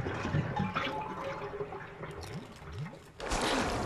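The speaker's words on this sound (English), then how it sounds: "Full of dirty water, remove the plug." Dirty water drains from a tub after the plug is pulled in Resident Evil HD Remake, a gurgling, trickling flow that rises into a louder rushing swirl near the end.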